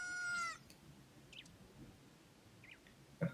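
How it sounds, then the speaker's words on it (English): Link, a child character in Ocarina of Time, crowing like a rooster: a short bright strained cry at the start, followed by faint chirpy calls and a soft thump over quiet game ambience. "That cockadoodle-doo was actually from Link."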